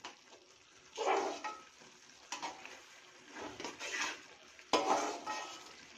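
Dal mash is stirred in a cooking pot, with a spoon scraping and knocking against the metal in irregular bursts alongside a faint sizzle, fairly quiet and close.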